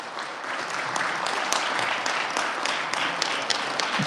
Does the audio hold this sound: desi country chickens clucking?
no